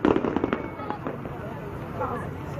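Fireworks exploding outdoors, with several sharp crackling bursts close together at the start, then scattered fainter pops, while people talk over them.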